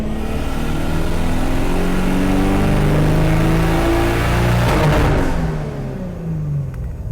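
A Nissan RB25DET engine in an S14 revs hard through a tuning pull, rising in a loud sustained roar before dropping back to a lower rumble, with no voices.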